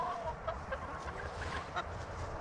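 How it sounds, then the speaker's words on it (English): A rooster nearby clucking and crowing in short, repeated bursts over low background noise, without talk. "Flair, save a rooster before they go to the Hong Kong buffet"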